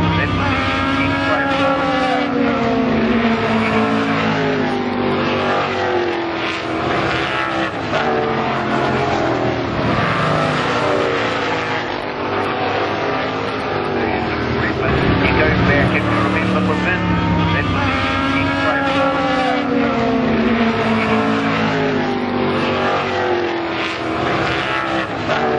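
Classic race cars roar through the start of a race in New Zealand, a dense, loud, continuous engine blare that holds steady throughout, with voices heard beneath the noise.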